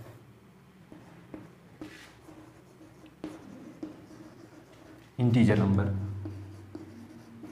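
Chalk or marker taps and scratches sound as numbers are written on a board during an algebra class, with a person speaking Hindi over the scattered writing strokes.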